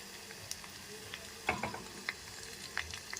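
Spicy chicken pakoda sizzles and crackles steadily in hot oil, a close continuous frying hiss with scattered pops and a brief stir-like rustle midway, no voices.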